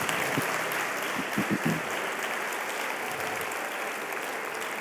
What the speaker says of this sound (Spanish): Si le va a aplaudir, apláudale al Señor.